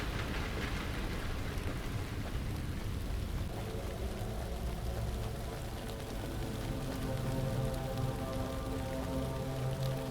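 Steady rain falls throughout a dark woodland scene in a Cthulhu horror video game, a constant hiss of drops on surfaces with a low rumble beneath, evenly loud and uninterrupted with no voices.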